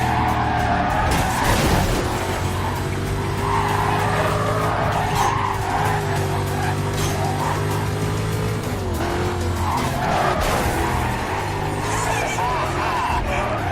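Race cars in Need For Speed Carbon roar loudly and without a break while tires screech and skid in long, repeated squeals. Engine pitch rises and falls through the turns, with dense, close game mixing throughout.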